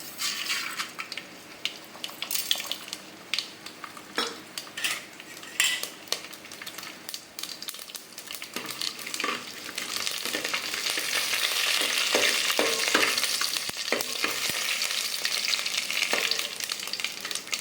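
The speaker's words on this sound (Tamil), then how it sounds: "இந்த நெய் எண்ணெய்லாம் நல்லா காஞ்சிட்டு இந்த கடுகு, உளுத்தம் பருப்பு, வெந்தயத்தை ஆட் பண்ணிக்கலாம்." Mustard seeds, urad dal and fenugreek sizzling in hot ghee and oil for rasam, with spoon clinks and stirring early on, then a loud, steady crackling sizzle.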